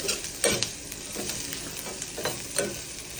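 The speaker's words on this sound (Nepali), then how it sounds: "बेसार हालेँ, अब यसलाई चलाउँछु।" Fried onion with turmeric being stirred in a hot pan, a continuous sizzle broken by repeated rhythmic scraping strokes of a spatula, close and without any talk.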